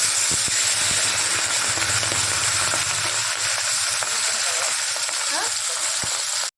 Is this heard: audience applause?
no